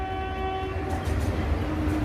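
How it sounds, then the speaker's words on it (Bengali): Freight trains pass through a junction station from both directions, a steady heavy rumble of wagons with a sustained horn tone over the top, close and loud throughout. "আর এখানে দেখুন দুদিক থেকে মালগাড়ি যাচ্ছে"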